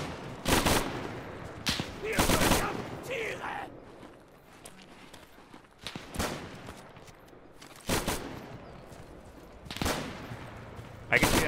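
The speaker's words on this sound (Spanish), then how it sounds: "Uy, cómo ha sonado eso. ¡Nos dispara!" Gunfire from a World War II battle in Arma 3 comes as loud, spaced bursts and single shots, some close and some farther off. People talk between the volleys.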